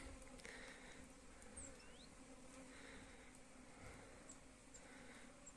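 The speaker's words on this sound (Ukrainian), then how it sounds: "Який гарний зараз відчувається гул, робочий гул бджоли." A steady, moderately quiet buzzing drone of many honey bees busy at work, continuous throughout with a few individual bees passing close by.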